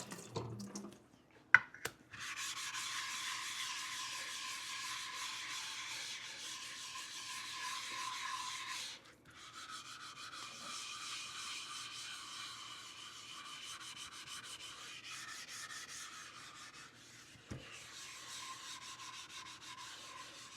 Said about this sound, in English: This is a very, very old diamond flattening plate